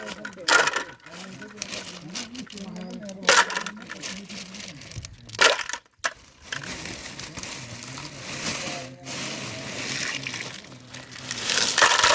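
Clams are dropped into a pot to be boiled, shells rattling, clattering and scraping against the metal in close, busy bursts, with a few sharper knocks and a rustling, crinkling layer throughout.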